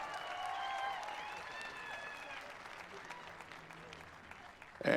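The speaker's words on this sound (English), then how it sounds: "Big round of applause, man." Crowd applause for the two-time Vegas Shoot champion at an archery shootdown, fairly steady clapping that slowly thins out, with a voice heard over it near the start and a sharp burst at the very end.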